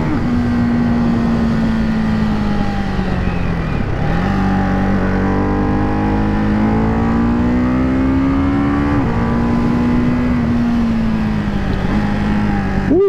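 A motorcycle engine roars loud and continuous while riding, holding high revs with brief dips at gear changes and no talking over it.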